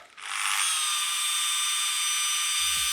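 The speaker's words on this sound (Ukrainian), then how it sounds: "Ротаційна машинка для мене дуже важливий фактор це наскільки вона голосно працює" A rotary car polishing machine spins up and runs with a steady high-pitched whine, loud and close, holding constant speed.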